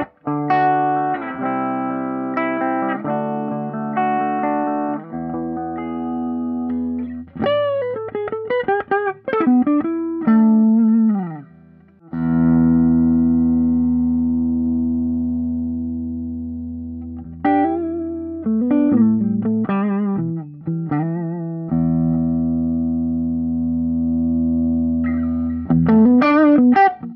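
An electric guitar played through a NUX 63' Diamond Vox-style amp-in-box pedal gives a driven, slightly distorted tone with chorus-like shimmer. Sustained chords alternate with quick bent single-note licks, loud and close, for nearly half a minute with no talking.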